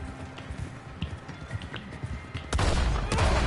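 In Red Dead Redemption 2 a rider is shot and his horse slams into another horse: hooves clatter faintly at first, then a sudden loud burst of gunfire and a heavy impact crash near the end.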